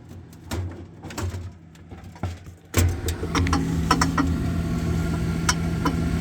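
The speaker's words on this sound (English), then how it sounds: "Small tube and a bigger tube can create that tapping noise." A refrigerator gives off irregular sharp taps and clicks as refrigerant flows between a small tube and a bigger one. A low hum rises and settles in partway through.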